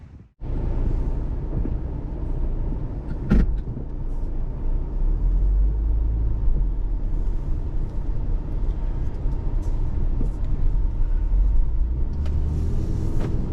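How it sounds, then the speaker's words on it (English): Steady low road rumble from inside a 2022 Subaru Ascent Touring SUV on the move, a continuous even drone with one brief knock near the start and no speech. "we are driving the Ascent, and it is a very, very comfortable drive"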